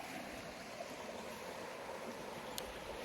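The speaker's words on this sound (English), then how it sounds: "As you can hear, a little bit of white noise with the brook." A brook flows beside a trail shelter on the Sentier Nepisiguit Mi'gmaq Trail, giving a steady broadband rush of water at moderate level with no other sounds.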